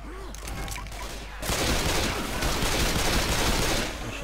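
A Left 4 Dead firefight erupts after a quieter start: rapid, dense bursts of automatic gunfire continue loudly before easing slightly at the end.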